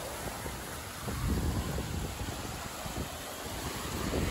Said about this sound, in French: Aujourd'hui c'est très venteux, donc comme vous pouvez voir, il y a beaucoup de vagues